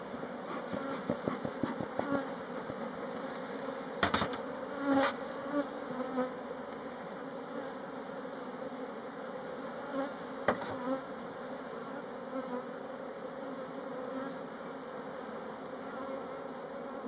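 Honeybee swarm buzzing close up during transfer from a nucleus box into a hive, a dense steady hum with a few sharp knocks and handling clicks.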